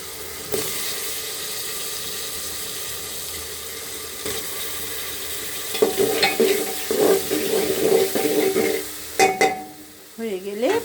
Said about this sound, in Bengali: এখন কষানো করে সব বাটা বাটি দিয়ে কষাচ্ছি